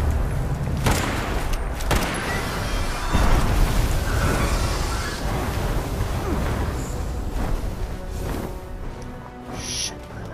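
Artillery explosions in a video game, with booming impacts landing among continuous crackling gunfire, the heaviest thumps early on and a steady loud barrage throughout.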